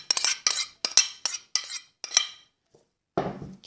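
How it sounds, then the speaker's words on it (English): Apples dropped one after another into a large mixing bowl, about seven sharp hollow knocks in an irregular rhythm, a pause, then a final rustling clatter, close and clear with no talking. "I'm just going to stick my apples in a bowl that's big enough to mix in"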